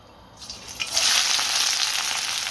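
Onions for a Birmingham balti hit a hot pan and build quickly into a loud, steady frying hiss that continues close up, with no talking.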